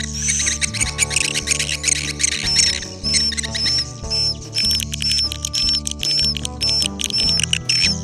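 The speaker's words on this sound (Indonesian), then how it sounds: "Suara burung walet ini sendiri diambil dari rekaman suara burung walet di dalam gua" Recorded calls of swiftlets inside a cave play as repeated short, high chirps at a fairly even pace. Steady low tones run beneath them throughout, with no talking.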